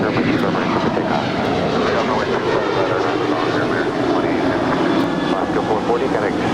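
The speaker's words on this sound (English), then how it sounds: "That was Alaska 440 departing to Cancun. It's a 737-800." An Alaska Airlines Boeing 737-800 taking off from LAX, its jet engines making a loud continuous roar at close range, with radio chatter in the background.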